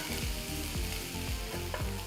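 Sliced onions sizzle in hot oil with mustard seeds and curry leaves in a pan. A spatula scrapes and stirs in a steady rhythm about every quarter second under the continuous soft frying hiss.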